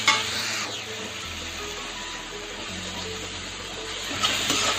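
Tomatoes sauté in a pan for chicken biryani, a steady moderate sizzle and hiss with a faint low hum beneath and a few light stirring sounds, no talking.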